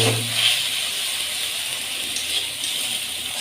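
Spice paste frying in a pan for a duck curry, a steady bright hiss and sizzle close up, with a brief low hum at the start and faint crackles scattered through the continuous frying.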